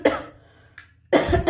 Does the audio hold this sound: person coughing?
yes